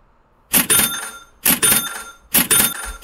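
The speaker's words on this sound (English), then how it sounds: "And I'm going to give him that ka-ching button." A cash register ka-ching sound effect plays three times from a soundboard at an even pace, each a bright metallic ring with a chime that trails off, and no voice is heard.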